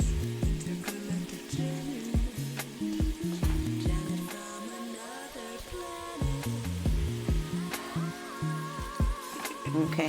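A seafood boil mac and cheese mixture is stirred in a pot, giving soft wet scraping and squelching that runs steadily for about ten seconds, with tonal background music playing underneath.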